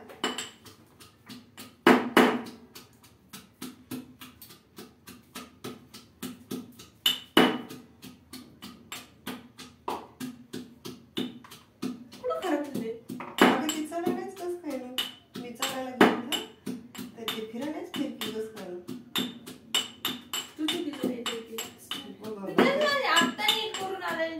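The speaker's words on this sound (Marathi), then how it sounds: "फोडणीसाठी आपण आता लसूण ठोसर असा बारीक करून घेऊया" Garlic is coarsely crushed in a small pot for tempering a paneer dish, heard as repeated sharp pounding knocks in a steady rhythm, close and fairly loud, with a person talking over the latter half.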